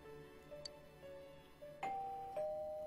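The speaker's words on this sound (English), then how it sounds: "You hear the doorbell ringing." A doorbell rings in the Persona 4 Golden video game as a string of soft, clear chime tones spaced across a few seconds, growing a little louder toward the end over a quiet background.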